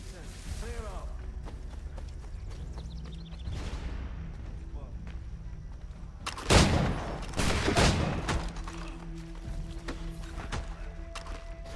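Gunshots in Assassin's Creed 3 Remastered: scattered sharp cracks, then a loud cluster of shots around the middle. Someone talks over game ambience and hoofbeats.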